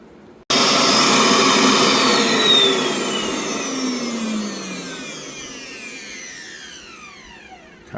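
A vacuum forming machine kicks on abruptly while forming a part for a Suzuki GSXR soda can sculpture, giving a loud, steady suction roar whose pitch slowly shifts as it runs, then gradually eases a little in strength.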